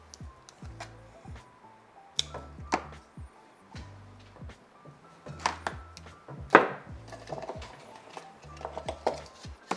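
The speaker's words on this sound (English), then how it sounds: "Just gonna snip those guys off." Scissors snipping monstera roots during repotting, giving a series of small crisp clicks and light snaps at close range, quiet and irregular, with soft handling noises between cuts.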